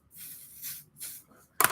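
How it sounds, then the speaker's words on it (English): Hair melting spray is sprayed onto a comb in two soft hissing bursts, close and quiet, followed by a brief sharp click at the end. "I'm going to actually spray this part of my comb"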